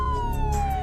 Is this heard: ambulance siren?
yes